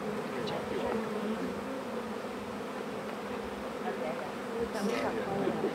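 Honey bees crawl over comb holding pollen and honey, their buzzing a continuous close drone with a few bees flying past louder, while a person talks quietly at points.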